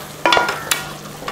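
Ground tomato fries in a pan while a spoon stirs it, giving a soft sizzle broken by a few sharp scraping strokes, close and fairly loud, with no voices.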